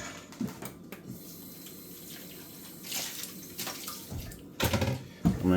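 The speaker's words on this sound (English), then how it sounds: "So now I'm going to pour in my milk sour cream mixture." A milk and sour cream mixture poured into rum cake batter, a close liquid splashing and trickling with intermittent clinks and bumps of a bowl.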